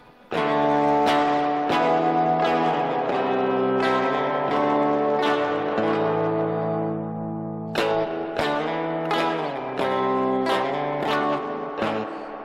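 Electric guitar played through the virtual amp of a TASCAM DP24 multitrack recorder with reverb applied, strummed chords ringing out with a long washy tail, a pause near the middle, then another run of chords.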